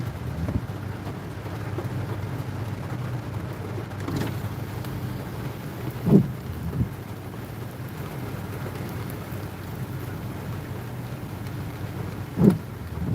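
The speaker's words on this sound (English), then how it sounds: "I'm glad you could hear my windscreen wipers" Windscreen wipers sweep across a car windscreen in a thunderstorm, giving soft periodic thumps roughly every six seconds over a steady wash of rain and low engine rumble, with no talking.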